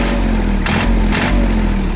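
A Japanese 4WD tractor with a loader idles just after start-up, a loud steady mechanical drone with a low droning hum and two brief rushes of louder noise midway, no talking.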